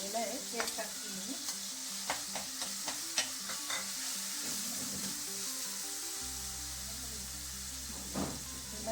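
Tomato and onion are stirred in hot oil in a pan for palak chicken, a continuous close sizzle broken by repeated spoon scrapes and taps, with a steady low hum underneath.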